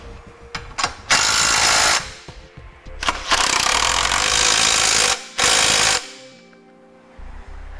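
An impact wrench tightens trailer hitch mounting hardware in several loud, close bursts of rapid hammering, separated by short pauses and quieter handling clicks.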